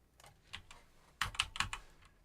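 A handful of sharp computer keyboard keystrokes while entering a resolution value in Daz Studio, a few scattered taps then a quicker cluster of clacks, close and clear with no talking.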